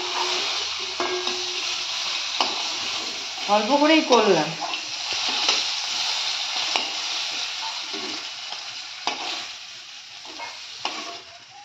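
Fish shallow-frying in oil in a home kitchen, a steady broadband sizzle running throughout with occasional utensil stirring and scraping, while someone briefly talks over it in the middle.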